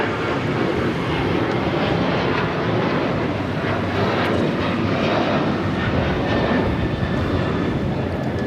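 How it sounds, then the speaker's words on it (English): A United Airlines Boeing 737-900ER takes off from LAX bound for Chicago, its jet engines producing a loud, sustained, broadband roar that stays steady and near for the whole stretch, with no talking. "This is United Airlines 1662 taking off to Chicago on the 737-900ER"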